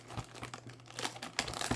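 Plastic-and-foil wrapping inside a box crinkles and crunches as it is handled, giving a close, quiet run of irregular rustles and crackles with no talking.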